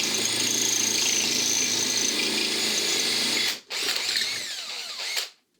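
A power drill bores through plasterboard on a dot-and-dab wall into the masonry behind to make a hole for a Fischer wall plug. A loud, steady whine runs unbroken, stops briefly, then restarts and winds down, with no voices.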